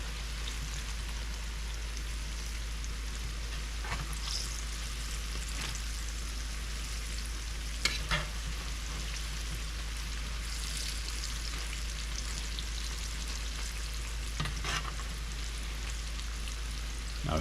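Steady hiss of okra frying on high heat in hot oil, constant and fairly loud, with a few brief pops and crackles, no voices.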